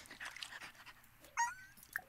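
A dog in The Sims 4 pants and whimpers faintly in short breathy bursts, with a brief high yip near the end, quiet and alone.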